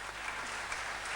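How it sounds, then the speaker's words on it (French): A theatre audience claps together in a steady, dense wash of applause, heard from a distance. "comme le laissent entendre ces applaudissements du public"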